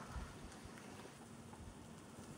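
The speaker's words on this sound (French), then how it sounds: "Là, il pleut juste, alors on a des éclairs" Rain falling steadily during a thunderstorm in late August, a dense even hiss with low rumbling underneath, heard outdoors with no voices.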